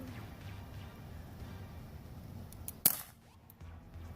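A single sharp BB gun shot cracks at a target outdoors, brief and fairly close over a low steady background hum.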